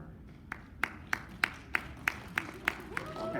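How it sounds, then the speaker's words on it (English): Audience at a comic convention panel clapping, a string of about ten distinct, evenly spaced sharp claps fairly near, over faint room murmur, with a voice rising at the end. "some people are clapping and some people raise their hands"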